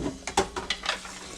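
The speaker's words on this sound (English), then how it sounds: "And we're going to stir it." A spoon stirs cake batter with a little vanilla in a bowl set in an ice bath, giving a few quiet, quick scraping and clinking strokes in an even rhythm.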